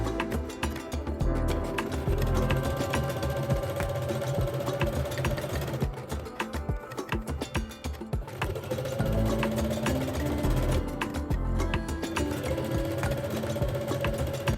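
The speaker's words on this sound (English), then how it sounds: "sew along the central line of the elastic waistband" A sewing machine stitches along the center line of an elastic waistband on wide-leg pants, running in long steady bursts with a brief pause partway through, close and fairly loud with no talking.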